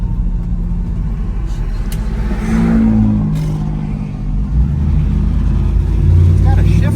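A 1972 Chevrolet Nova with a 5.3L engine and 4L60E automatic accelerates from inside the cabin, its deep engine rumble rising, briefly dipping at a quick 1-2 shift, then pulling again, while people talk over it.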